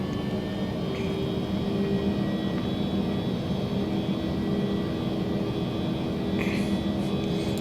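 An Embraer E175's jet engines spool up in X-Plane 11 under auto throttle, a steady, loud, continuous turbine roar with a high whine running throughout, and no talking.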